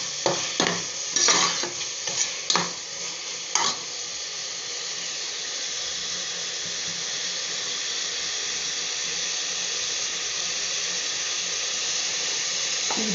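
Tomato and ginger-garlic paste sautéing in a pan for mutton gravy: a few sharp scraping stirs at the start, then a steady, moderately loud sizzle that hisses on alone.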